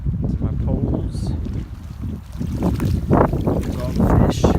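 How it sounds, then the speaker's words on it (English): Wind gusting at Green River Lakes, buffeting a nearby microphone with loud low rumbling roar that swells and eases in waves, with faint splashy water texture over it. "It's getting a little windy here."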